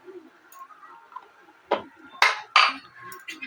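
A spatula scrapes and clinks against a pan while bata fish masala is stirred: a few soft taps, then three sharper metallic scrapes close together near the end, over a faint low background.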